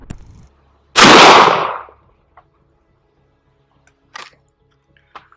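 A single loud blast from a Rossi Tuffy .410 single-shot shotgun fires early, with a long decaying tail lasting about a second, followed by a few faint clicks and light mechanical handling noises.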